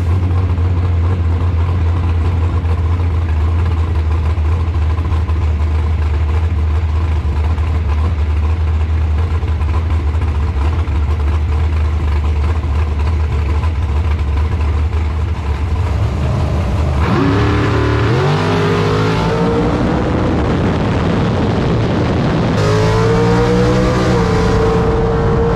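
Race cars at a bracket drag racing event at Cedar Falls Motorsports Park: a loud, steady engine idle drones for most of the clip, then engines rev sharply several times near the end, with no talk.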